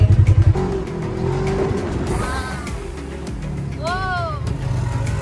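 An off-road vehicle's engine drones and revs while dune bashing in the desert, a steady nearby motor sound with voices talking and exclaiming over it.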